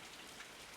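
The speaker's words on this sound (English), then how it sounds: "waiting for the rain to stop so we can finish up that fencing" Steady rain falling outdoors in a close, even wash of drops with no pauses and no voices.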